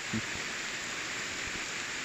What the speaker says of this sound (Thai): โอเคครับฝนตกตกครับตอนนี้